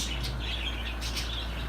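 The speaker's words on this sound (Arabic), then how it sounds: "طيور هسه" Lovebirds chirp in an aviary, with scattered high tweets rising above a steady low hum of background noise, fairly faint and continuous.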